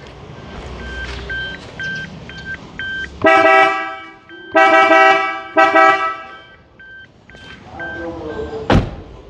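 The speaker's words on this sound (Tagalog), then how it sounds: "for the horn of this one, we installed the Mitsuba" A Mitsuba Dulce 3 horn on a new three-door Suzuki Jimny blares in three loud, close honks between softer repeated electronic beeps, and a sharp thunk follows at the end.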